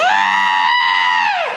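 A person vocally imitates a fantasy creature's screech with one loud, drawn-out, strained shriek that rises and then bends downward, close to the mic, heard during a tabletop role-playing game.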